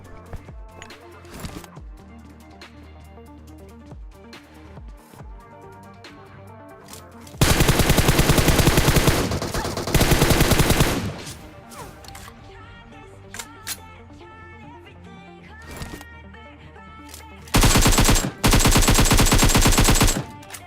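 Groza rifle fire in PUBG Mobile during a solo-versus-squad match comes in two long, loud, close automatic bursts with brief pauses, surrounded by scattered shorter shots and quieter game sounds.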